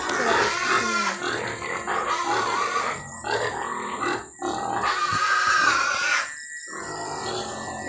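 Pigs grunt and snort close by in a dense, continuous run of rough, overlapping grunts with a few short pauses, with no talk over them.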